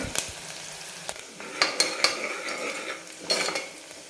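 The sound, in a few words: sautéing onion in a pan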